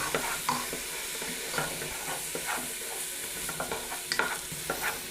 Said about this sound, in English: Mix that in with all the flour and stuff.